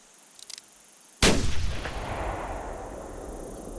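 A single loud rifle shot in a hunting video game, one sharp crack out of near silence followed by a long rolling echo that fades away.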